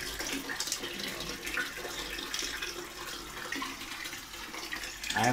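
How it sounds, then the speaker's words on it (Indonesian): Water gushes strongly from a tap, a steady hissing, splashing flow that runs continuously and fairly close, with no voices over it. "Air keluar gede."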